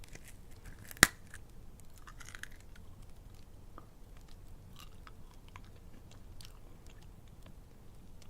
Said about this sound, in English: Oh, these aren't really crunchy, they're kind of chewy.